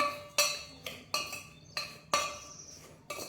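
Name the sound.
spices being mixed in a bowl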